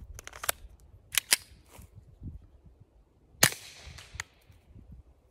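Sig P322 pistol firing Federal ammunition outdoors by the woods: a handful of sharp, fairly quiet cracks, a cluster early on and a stronger single shot midway, each followed by a brief fading tail, with no talking.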